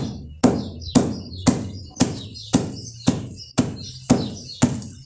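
Dehydrated kitchen scraps stuffed inside a denim jeans leg take about ten evenly spaced heavy thuds, each pound landing close and loud with a short dull decay.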